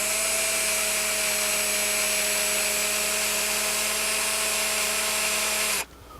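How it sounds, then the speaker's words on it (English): A power drill bores steadily through a rivet head into the shank on a Zastava M76 receiver, a constant high whine holding for nearly six seconds before it stops abruptly. "What we're trying to do here is just drill through the head of the rivet and just down into the shank where it passes through the receiver"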